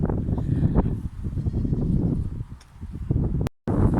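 A goat named Boki on a small homestead bleats nearby, short animal calls over rustling and light outdoor noise, with a brief dropout near the end.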